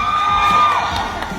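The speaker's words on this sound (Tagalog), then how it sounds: "Mga 365 ang pumalakpak, ha?" Audience at a family day show cheering and whooping for a contestant, a short burst of loud crowd shouting with a high whistle-like tone at the start.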